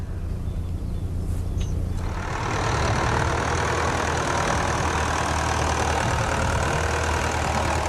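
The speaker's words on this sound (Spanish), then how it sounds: "puede pasar el arado con el tractor y meterlo debajo de tierra" A steady, loud tractor engine rumbles continuously on an olive farm, low and droning, with broadband noise that thickens after the first couple of seconds; no voices.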